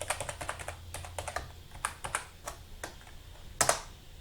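Fingers type a password on a computer keyboard, a quick irregular run of close, soft key clicks ending with a louder double tap.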